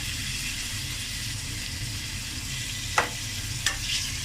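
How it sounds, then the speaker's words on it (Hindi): Onions and ginger frying in a pan for a dhaba-style masoor dal tempering, giving a steady close sizzle throughout with two sharp utensil clicks or stirring scrapes near the end, and no talking. "अदरक को ज़रा 1 मिनट फ्राई किया"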